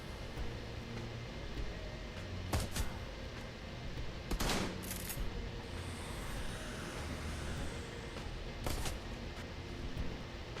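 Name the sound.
automatic gunfire spraying an enemy, from video game Shadowrun: Hong Kong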